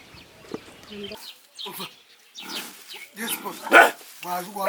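Dogs bark in short bursts at a moderate distance, mixed with people talking nearby.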